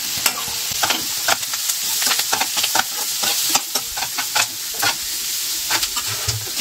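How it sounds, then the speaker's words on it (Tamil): Curry leaves, mint and coriander fry and sizzle in a pan, a dense crackling hiss broken by frequent scraping stirring strokes, close and steady throughout. "இந்த பக்கம் இது ஃப்ரை ஆகிட்டே இருக்கட்டும்."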